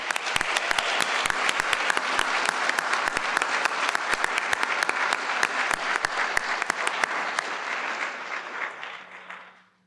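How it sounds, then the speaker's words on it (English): Audience applause for students graduating from the College of Humanities at a winter convocation ceremony, dense clapping with sharp individual claps sustained for several seconds before fading out. "let's give all of our students who are graduating today from the College of Humanities a round of applause for their academic accomplishments."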